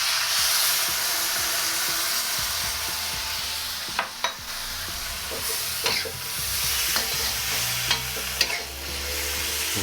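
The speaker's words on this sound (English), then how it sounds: "I'm gonna drop the sauce" Sauce hits a hot pan of Mongolian beef and onions, setting off a loud, continuous sizzle. A few sharp clinks from stirring break through along the way.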